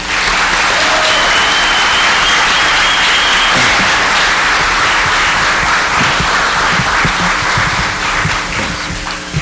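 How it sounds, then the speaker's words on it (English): Audience applause at a town hall, a dense steady wash of many hands clapping throughout at close range, with no talk over it. "I'd like all of us to offer them another round of applause"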